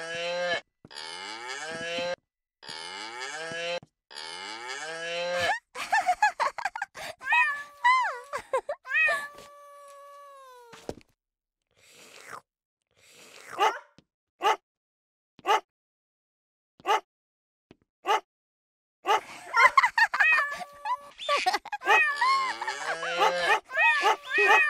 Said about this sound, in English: Every time Rosie pushes a key, the toy makes an animal sound.